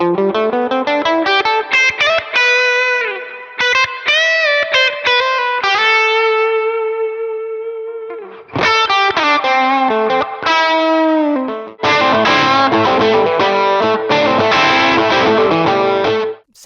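Electric guitar through a Warm Audio Centavo overdrive pedal, loud driven phrases with ringing sustained notes, short pauses, then denser strummed chords near the end.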